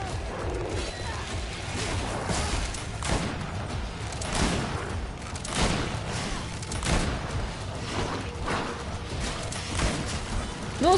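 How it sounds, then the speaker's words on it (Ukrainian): Sustained, dense volleys of gunfire crackle throughout, with repeated sharp bursts and crashes layered over a constant, busy background of sound effects in the video game GreedFall. "Ну, скільки буду стріляти, стільки буду стріляти."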